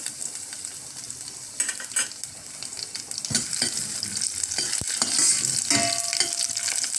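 Garlic sizzles and fries steadily in hot oil in a pan for a creamy cabbage sodhi, a continuous close crackle with occasional utensil clinks and stirring.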